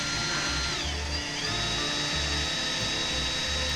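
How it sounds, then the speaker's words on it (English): Power drill boring out a stuck screw on an Echo chainsaw, with oil used to lubricate the bit; a steady close whine runs throughout, with pulsing low motor bursts. "Using a little bit of oil to lubricate the drilling process helps a lot too."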